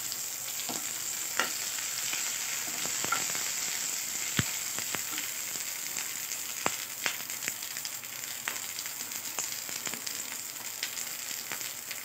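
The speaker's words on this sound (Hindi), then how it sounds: "थोड़ा सा मिर्ची को और सरसों के दाने जब चटक जाएंगे तो हम इसमें ऐड करेंगे पानी" Mustard seeds and chillies crackle and pop in hot oil during a dhokla tempering, with scattered sharp snaps over a steady sizzle, close and moderately loud with no talking.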